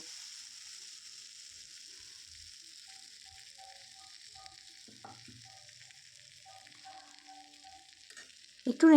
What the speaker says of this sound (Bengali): আর দিয়ে দিলাম পরিমাণ মতো জিরে ধনে গুঁড়ো তো সব কিছু দিয়ে আমি এটাকে ভালো করে নেড়ে চেড়ে কষিয়ে নেব